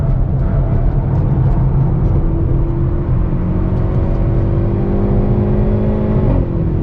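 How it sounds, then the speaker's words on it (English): A 2022 Hyundai Veloster N with the 8-speed DCT, driven in sport mode on a track, drones loudly and continuously as its engine revs climb steadily in pitch, with a brief shift near the end. "we're going to try engine in sport mode here"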